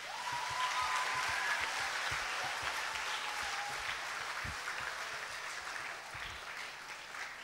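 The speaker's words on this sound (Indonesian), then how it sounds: "Izin kita tepuk tangan buat mereka semua." Audience applause for a group of young singers, a dense, sustained clatter of many hands clapping together for several seconds and slowly thinning out toward the end, heard alone with no voices over it.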